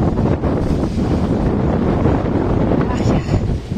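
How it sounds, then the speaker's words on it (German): Strong, gusty storm wind roars and buffets the microphone at the new fishing harbour in Cuxhaven, a loud, continuous rumble that fills the whole moment. "Also es ist echt stürmisch,"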